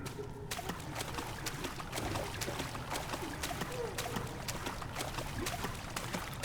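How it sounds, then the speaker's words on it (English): Something splashing about in the water of a dark cistern in Amnesia: The Dark Descent, continuous wet sloshing and trickling with scattered sharp splashes, under a steady murky ambience. "Okay, I think that's it splashing about."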